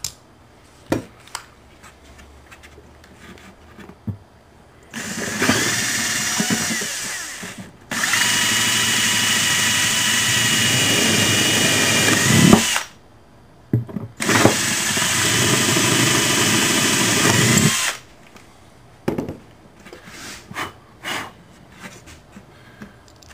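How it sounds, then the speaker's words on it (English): A power drill drills two holes in a guitar bridge in three long, loud bursts separated by short pauses, with quieter clicks and handling noises before and after. "So at this point I'm going to go ahead and drill the 2 holes"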